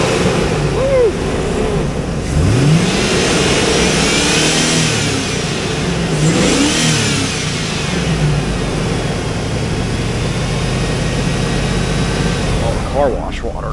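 A 2003 Hummer H2 with an LQ4 V8, idling loudly and close up, then blipped in two clear revs that swell and fade before it settles back to a steady rumble.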